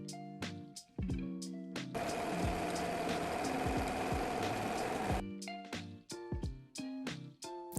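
A sewing machine stitches a seam on a pair of jeans with a 3/8 inch (1 cm) seam allowance. Its steady, loud mechanical whir runs for about three seconds, with quieter music-like tones before and after.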